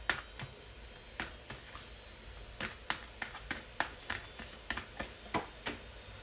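A Moonology Oracle card deck is shuffled by hand at close range, a run of quick riffling bursts and soft flicks in an uneven rhythm, with no talking.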